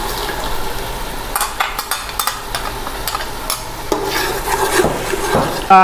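Masala with yogurt fries in a pan, sizzling under repeated scraping and stirring strokes from a spoon, close and fairly loud, with a clink at the end and no talk.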